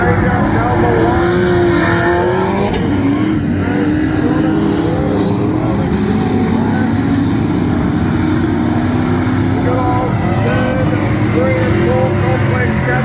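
Race cars at the 2023 AMCA Nationals Victorian title meeting, with engines revving and roaring loudly and continuously as the cars race past, under an indistinct commentator's voice.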